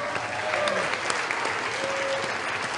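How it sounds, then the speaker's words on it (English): Audience at an award speech event breaking into steady applause, a continuous wash of clapping with faint voices mixed in. "us to give a brief round of applause to Roy Speckhart"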